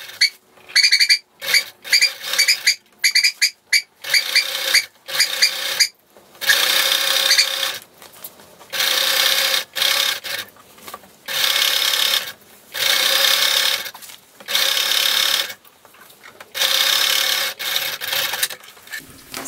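A sewing machine bastes a long seam across a gathered apron, whirring in steady close bursts of a second or two with brief stops between them, alone with no voices.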